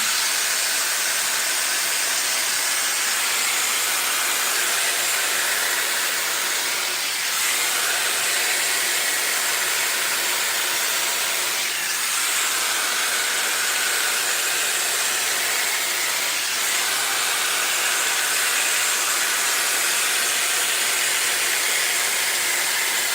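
A Shark Glossi hair dryer blows on natural curly hair, making a continuous, close, breathy roar of airflow that holds steady throughout with no voices.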